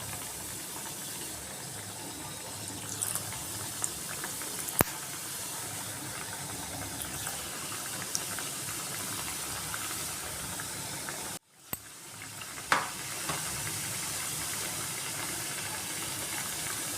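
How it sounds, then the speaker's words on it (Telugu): Sweet corn rolls deep-frying in hot oil for an evening snack, a steady dense hiss and bubbling that runs continuously, briefly dropping out for a moment before resuming at the same level. "ఇవి మనం ఇప్పుడు ఆయిల్లో వేపుకుందాం"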